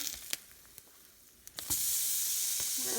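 Food sizzling in a frying pan alongside spinach and spring greens, a steady close hiss that swells louder halfway through, with a few faint clicks and clinks; no talking.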